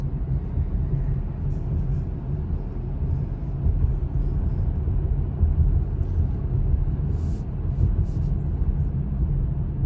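Steady low road and tire rumble from a 2023 Subaru Ascent riding on 21-inch performance tires, a continuous loud drone inside the cabin with no speech.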